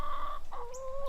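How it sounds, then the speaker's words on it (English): French Brisset meat chickens cluck in two short, close bursts separated by a brief pause, with a faint higher chirp in the background. "these are a French Brisset breed. These are our meat chickens"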